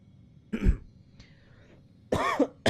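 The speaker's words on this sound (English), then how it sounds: "Oh my god, I'm actually coughing." A person coughs twice close to the microphone, a short cough then a harsher throat-clearing cough, separated by quiet room tone, with no talking.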